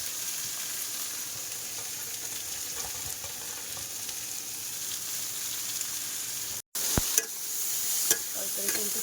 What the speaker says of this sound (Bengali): তরকারি কিন্তু কষাই হচ্ছে